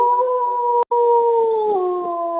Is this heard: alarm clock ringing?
no